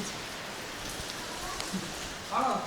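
Rain falls steadily outdoors around a parked vehicle, a soft continuous patter and hiss with a few louder drips and a brief burst of sound near the end.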